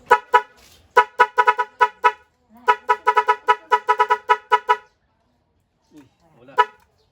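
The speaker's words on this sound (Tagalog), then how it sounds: "Ito yung busina niyan." A compact dual air horn mounted on a bike blares in short, loud, bright toots, fired in rapid bursts and stuttering patterns with brief gaps, close to the listener.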